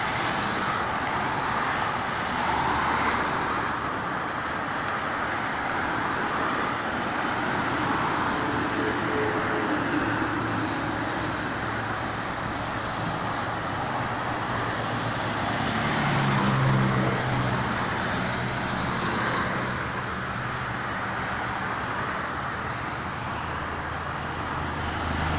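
Traffic on the Jakarta-Cikampek toll road at km 54 near Klari, Karawang: a loud, continuous roar of passing cars and trucks, with a heavier vehicle swelling past around the middle.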